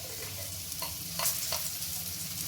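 Onion and capsicum fry with ground pepper and salt in a pan, a steady close sizzle broken by a few sharp scraping stirs of a spatula, with no voices.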